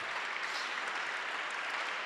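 Soft, distant applause from an audience at the closing of an Italian conference, thanking volunteers: a low, even wash of clapping held briefly without speech.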